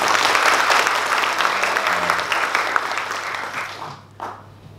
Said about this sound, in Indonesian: Mau tepuk tangan dong buat beliau.